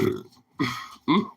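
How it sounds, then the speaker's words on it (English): Three close, throaty burps in a row, the first trailing off, then two more separated by brief silences. "Good burp."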